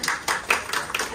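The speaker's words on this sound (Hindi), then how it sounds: "तालियां" A few people clap together in an even rhythm, a short burst of applause heard close by.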